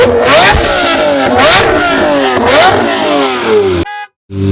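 A pink Lamborghini, either a turbo Huracán or a manual Murciélago, revs loudly up close in three rising sweeps with falling pauses between, then cuts off abruptly.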